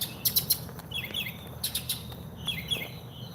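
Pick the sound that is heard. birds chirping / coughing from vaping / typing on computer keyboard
birds chirping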